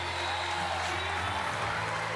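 Convention-hall crowd applause and cheering at the 2016 Republican National Convention as Melania Trump comes out, a steady wash of clapping under a commentator's voice.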